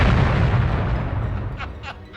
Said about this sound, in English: the ship is rocked by a bombardment of proton torpedoes